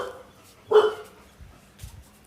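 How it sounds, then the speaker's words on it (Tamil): A puppy gives one short, sharp bark near a village kitchen where mutton curry is cooking, followed by faint low rustling. "நம்ம நாய்க்குட்டி கத்துறாங்கங்க"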